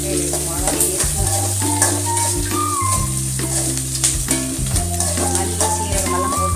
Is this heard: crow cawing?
no